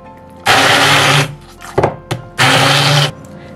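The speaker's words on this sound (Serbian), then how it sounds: "Još malo samleti uz pomoć štapnog miksera." A handheld immersion blender grinds a raw meat mixture in two loud, sustained bursts of motor whine, with brief rattling knocks between them.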